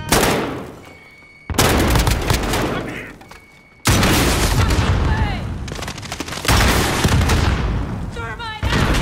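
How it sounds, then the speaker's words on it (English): Grenade blasts in Modern Warfare 2020 crash in as loud, sudden booms that cut in and out amid a steady wash of game battle noise, with someone talking over the action. "Throwing grenades."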